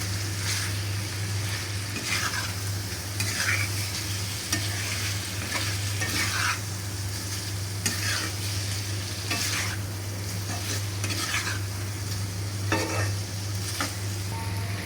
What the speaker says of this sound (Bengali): কলিজে দিয়ে আমি ভালোভাবে কষিয়ে নেব